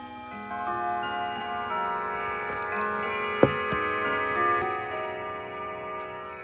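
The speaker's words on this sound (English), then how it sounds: "That was a 30-minute chime." A new Howard Miller mantel clock plays its half-hour chime indoors, sustained ringing tones layered over steady ticking, with one sharp knock partway through.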